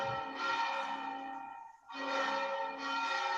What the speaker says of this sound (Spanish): Están acabando de tañir las campanas de la iglesia vecina